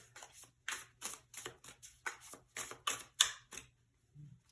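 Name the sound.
tarot cards being drawn from the deck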